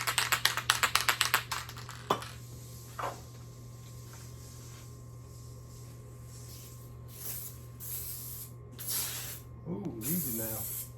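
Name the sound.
aerosol spray can spraying cabinet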